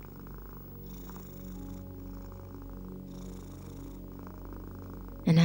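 A steady, soft cat purr rumbles continuously at close range, with gentle cyclic swells, ending in a brief louder thump.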